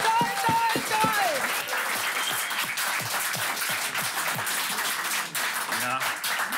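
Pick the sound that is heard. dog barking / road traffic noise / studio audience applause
studio audience applause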